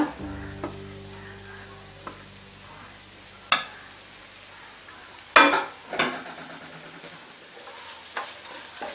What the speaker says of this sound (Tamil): இந்த ஸ்டேஜில் நம்ம தேங்காயை போட்டுக்கலாம், தேங்காய் துருவலை.